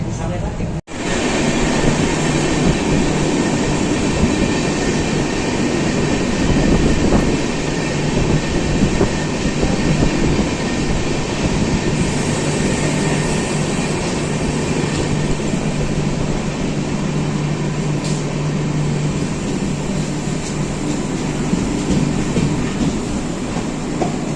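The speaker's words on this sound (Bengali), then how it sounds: "এই মুহূর্তে কিন্তু আমাদের এই ট্রেন এসে পৌঁছলো শিলিগুড়ি" A Vistadome-coach train rolling between New Jalpaiguri and Siliguri gives a steady loud rumble from inside the carriage, with rhythmic wheel clatter, a sharp knock near the start and faint squeals, continuous throughout with a voice speaking over it.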